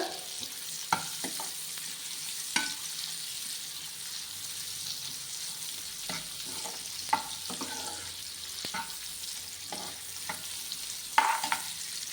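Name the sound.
frying ingredients in a pan for sheer khurma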